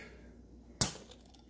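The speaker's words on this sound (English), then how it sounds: "So we start by using a little bottle opener over here." A small bottle opener pops the cap off a root beer bottle, giving a single sharp crack and short hiss near the mic in an otherwise quiet kitchen.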